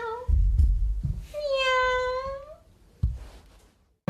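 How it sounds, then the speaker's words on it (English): A cat gives a long, rising-and-falling meow, clear and close, between short bursts of a person's voice. "Look, that's the cat."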